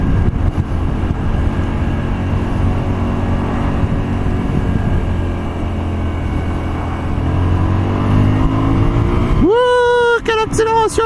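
A Varadero 125 motorcycle accelerates hard, its engine roaring loud and close with a rising drone. It ends in a sharp high rev climb, and a rider's voice comes through over the noise.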